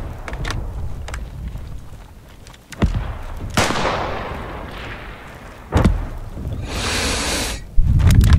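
Artillery fire in the World War I shooter game Beyond The Wire at Vimy Ridge: several heavy booming blasts with long rumbling decay, plus distant gunfire cracks and a burst of hissing noise near the end.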